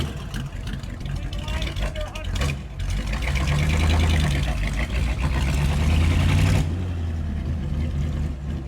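A Ford Flathead engine in a 1956 Almquist Sabre sports car rumbles close by, a deep idle that swells louder for a few seconds before settling, with voices heard over it.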